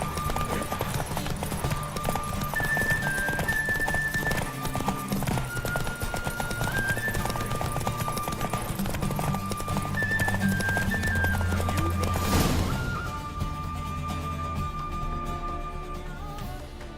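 Hooves clip-clop steadily as a horse gallops in the video game Witcher 3, a continuous rhythmic pounding under faint game music and ambience.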